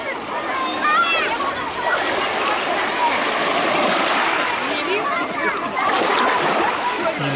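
Sea surf breaks and washes on the shore of Shamara Bay in Primorsky Krai, a steady close rush of water and splashes throughout, with a voice speaking faintly underneath.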